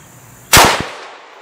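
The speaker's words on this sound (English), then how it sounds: "Let me shoot it again" A single loud gunshot fired at a target outdoors, a sharp close crack followed by a short echoing tail and a couple of quick low thumps, with no voices.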